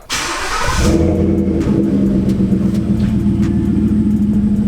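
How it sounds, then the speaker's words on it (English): A 5.0 truck with a single chamber exhaust, bolt-on mods and an E85 tune, fires up with a sharp crank and then settles into a loud, deep, steady rumble close by. "the truck does sound pretty good. I'll show you guys right now."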